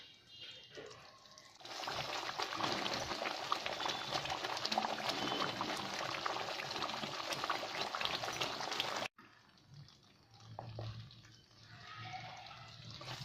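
Wheat rava and karupatti kesari cooks in a pan with a steady, faint bubbling and sizzling hiss that runs for several seconds, then stops abruptly and gives way to quieter clinks and low kitchen noise.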